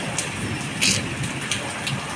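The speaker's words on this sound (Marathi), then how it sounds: "पा आवाज पण किती येतो आहे आणि पाऊस पण असा तसं नाही खूप जोरात आहे" Heavy unseasonal summer rain pours steadily, a dense hiss of drops with a few sharper spatters standing out now and then.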